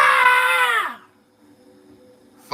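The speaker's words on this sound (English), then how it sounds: "a chilling scream echoed from above" A chilling, high-pitched scream rings out loud and sustained for about a second, then trails off into near silence, set within a spooky monster story.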